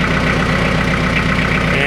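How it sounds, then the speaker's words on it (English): A tractor engine idles steadily at close range, a loud, even low-pitched rumble with a regular pulsing beat and no talk over it. "we'll see if this tractor will pull out these railroad ties"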